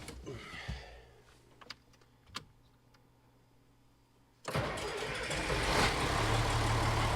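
A few clicks and clunks in a quiet space, then a 4050 tractor's engine cranks and catches, settling into a loud, steady diesel idle.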